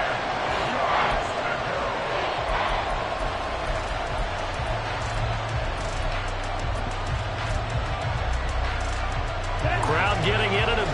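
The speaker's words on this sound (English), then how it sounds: "Crowd getting in it a bit already" A football stadium crowd roars as a continuous, loud wash of cheering and babble throughout, with a broadcast voice faintly underneath.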